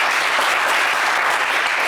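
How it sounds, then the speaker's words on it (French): Studio audience at a French television game show breaking into dense, steady applause, loud and sustained throughout with no voices on top. "On vous applaudit quand même très, très fort."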